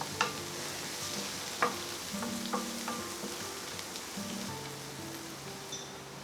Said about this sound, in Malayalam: മഞ്ഞൾപ്പൊടി ചേർത്ത് പച്ചമണം മാറുന്ന വരെ വഴറ്റണം